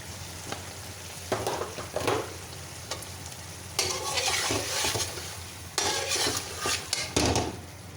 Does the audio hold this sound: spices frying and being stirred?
yes